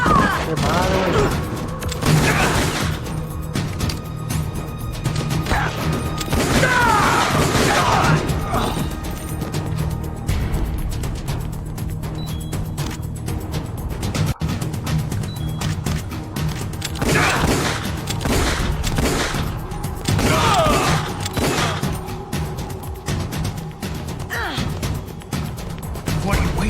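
Rapid gunfire bursts from the Metal Gear video game, repeated shots and crashes layered with game music and voices talking throughout.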